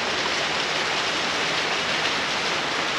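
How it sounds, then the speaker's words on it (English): Steady, dense hiss of rain falling continuously and fairly close in Nicaragua, with no voices. "and it just started raining."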